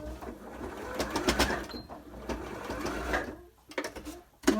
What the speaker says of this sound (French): vous venez coudre, faire quelques points pour que ça tienne bien